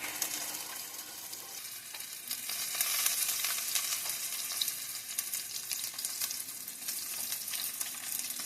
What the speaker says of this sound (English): Takes about 12 minutes to cook sausage from frozen to done.